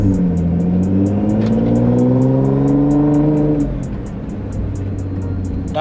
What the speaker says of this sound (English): I love loud cars and I love loud exhausts